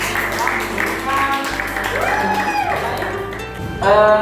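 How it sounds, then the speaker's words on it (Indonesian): Classroom students in a Makassar chemistry lesson on corrosion clap together in a steady, dense patter. The applause runs throughout under a teacher's voice, then swells louder near the end. "Oke, ya, kita berikan aplaus sama teman-teman"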